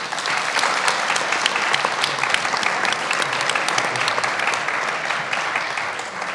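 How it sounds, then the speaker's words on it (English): A crowd at a youth entrepreneurship competition applauds a finalist, a loud, sustained and even wash of clapping that holds steady for several seconds. "let's please give Lodias a round of applause"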